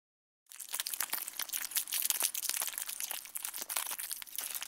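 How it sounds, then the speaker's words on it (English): A sheet of paper is torn and crumpled up close as a sound effect, giving a continuous run of loud crackling, crinkling and ripping with sharp snaps throughout, no voices. "he's making these sound effects by ripping a piece of paper and crumpling that piece of paper"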